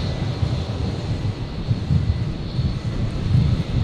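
An Air New Zealand airliner taking off from Brisbane Airport gives a steady, broad engine roar that holds its level throughout, heard from a distance with wind noise and no talk.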